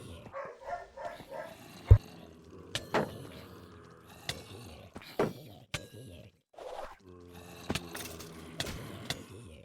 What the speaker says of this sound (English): Sorry guys for the dogs in the background.